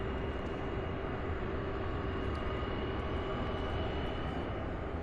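An American Airlines Boeing 737-800 landing at night at Louisville's UPS Worldport, a steady broad jet roar with a faint constant whine, continuous and fairly distant, with no talking.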